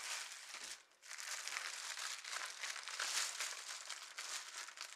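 Bright, continuous crinkling of a plastic milk bag being handled, close and fairly quiet, with a brief pause near the start and no talk.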